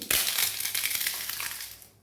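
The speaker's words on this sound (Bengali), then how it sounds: "কতটা মুচমুচে কড়কড়া হয়েছে দেখেছে ভেঙে একদম হাতে গুঁড়ো হয়ে গেছে" Dry, brittle crunching and crackling as a crispy fried papad is crushed by hand, a dense burst of snapping crumbs that fades over two seconds.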